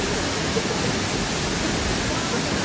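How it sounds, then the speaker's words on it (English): Steady, loud rushing water of the Mantayupan waterfall, a continuous broadband roar filling the clip with no breaks, close by. "He's like in the waterfall."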